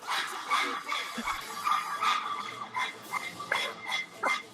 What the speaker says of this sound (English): It really sounds like dogs barking indeed.